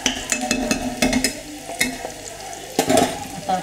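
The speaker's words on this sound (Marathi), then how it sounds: "कांदा जास्ती भाजायचा नाही, थोडासा चटचटीत भाजला." Onion frying and stirred in a pan for banana flower bhaji, with steady sizzling and intermittent scraping and clinking of the spoon against the pan, close and moderately loud.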